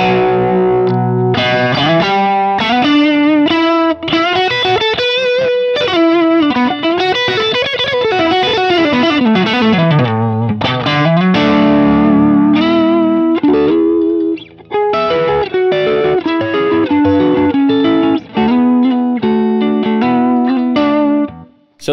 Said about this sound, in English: This is the shimmer drive.